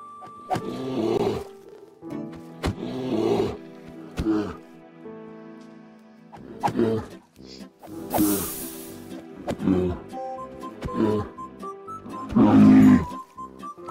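Game bear roaring while being fought in Better Minecraft, a modded survival game, several loud growling bursts spaced across the clip between quieter gaps, with sharp hit sounds.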